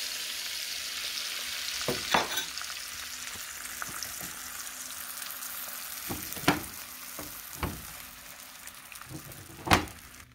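Two eggs fry in a pan for a sandwich, giving a steady close sizzle with occasional sharper crackles and utensil scrapes.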